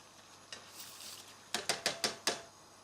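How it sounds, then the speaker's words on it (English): Faint scraping and a soft hiss, then five quick taps in a row as rice grains are tapped into a pan of boiling water, close by and without talk. "now I have a pan of boiling water. And all you need to do is pop your rice straight in."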